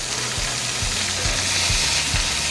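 Meat browning in a hot cast iron pan for an Italian dish, a steady loud frying sizzle with a low rhythmic thump repeating every half second or so, no voices.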